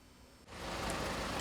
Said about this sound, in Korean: 촉촉히 비가 내리는 아침